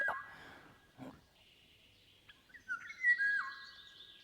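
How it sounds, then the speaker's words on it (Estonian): A flycatcher sings a few clear, high whistled notes and short sliding phrases, faint and separated by pauses, with a brief low rustle partway through. "Kärbsenäpp."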